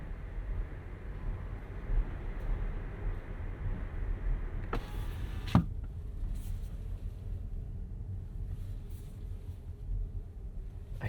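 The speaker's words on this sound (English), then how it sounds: "I swear, it sounds like something's dragging. It's not the most pleasant EV noise." A 2025 Mazda CX-50 Hybrid rolling in electric mode on a city commute, giving a steady low road and motor hum with a faint dragging drone, broken briefly by a sharper whirring burst partway through.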